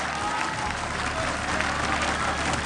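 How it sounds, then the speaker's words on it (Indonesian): An audience at an Indonesian school quiz olympiad applauds a team, dense continuous clapping sustained and fairly loud throughout. "tepuk tangan buat tim A untuk Andre."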